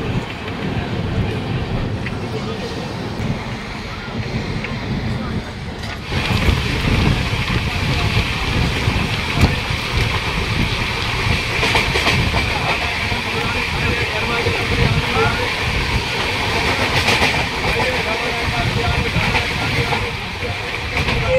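Patna Howrah Jan Shatabdi Express pulling out of Asansol, heard from inside a second-class seating coach as a steady loud rumble of wheels and wind with faint rhythmic clacking and a voice speaking now and then.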